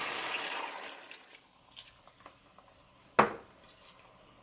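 Water runs into a cooking pot with a splashing pour for a Jamaican jerk crab dish, then metal clinks as a utensil strikes the pan, close and fairly quiet.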